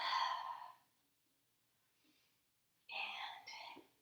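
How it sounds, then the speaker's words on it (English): Breath pushed out during a core exercise comes in two soft, airy bursts separated by a near-silent pause, close and quiet. "Exhale."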